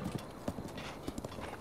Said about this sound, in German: während unser Pferd da entlang reitet